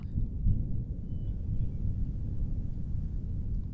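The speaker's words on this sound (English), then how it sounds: "Can you hear the thunder?" Low thunder rumbles continuously through a storm at a campsite along the Pacific Crest Trail, a deep steady roll with slight swells, mixed with wind noise on the microphone and no talking.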